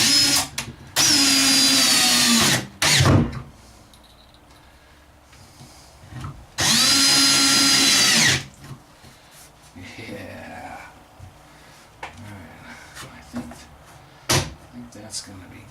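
A power drill drives 1 5/8 inch screws into wood while a wardrobe cabinet is built inside a DIY travel trailer: two long, loud whirring bursts with short knocks and quieter handling noise between them.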